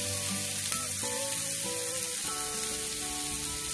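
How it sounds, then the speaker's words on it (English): Onion hitting a high-heat pan with bay leaf, a close, even sizzle with faint clinks and stirring sounds early on, then a steady frying hiss. "And now, I'm gonna add onion."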